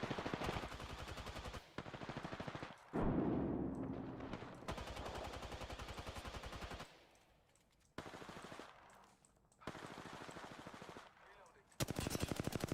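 Rapid bursts of automatic gunfire and single shots ring out in a PC ranked shooter match, loud and close, broken by short pauses and a few quieter stretches, with some voice underneath.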